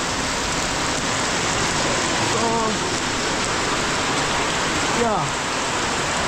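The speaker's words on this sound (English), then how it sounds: "Look, it's raining, man." Steady rain pours down outdoors, a dense even hiss filling the whole stretch, with someone speaking briefly over it.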